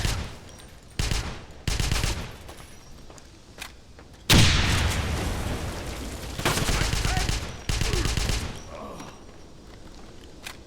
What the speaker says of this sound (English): Take cover. Q to change weapon.